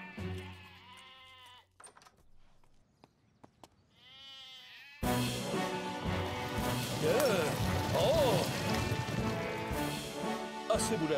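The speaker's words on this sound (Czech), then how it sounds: "Po celém Pontypandiově pobíhá stádo ovcí." A flock of sheep bleats in a children's cartoon set in a small Welsh town, several short bleats over quiet at first, then buried under loud music and commotion.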